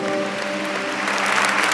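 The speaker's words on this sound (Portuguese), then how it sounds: "Vamos aplaudir o Senhor" A church congregation claps together in dense, steady applause that holds at an even level and swells slightly toward the end, with a faint sustained musical tone underneath.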